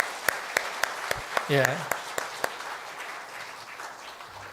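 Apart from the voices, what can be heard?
church congregation applause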